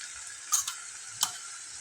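Tomatoes frying with a little salt in a pan for paneer bhurji, a thin, quiet, even sizzle with two brief sharp clinks of a utensil against the pan.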